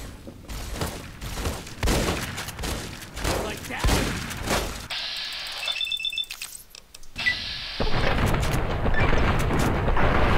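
Gunfire in Fallout: New Vegas: a string of sharp, evenly spaced shots, then a short pause filled with electronic beeping tones, then heavier continuous firing and blasts.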